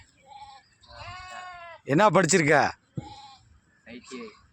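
Goats bleat loudly and close by while being herded, one long wavering cry standing out among shorter calls, with someone talking in Tamil between them.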